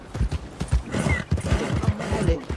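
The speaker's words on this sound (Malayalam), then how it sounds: "അയ്യോ കുതിര." A horse gallops in a video game, its rapid, rhythmic hoofbeats clopping loud and close throughout, with a faint whinny mixed in.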